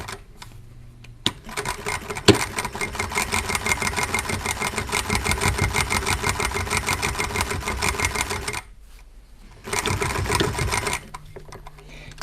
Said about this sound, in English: I'm going to sew the side down right here, going fairly close to the edge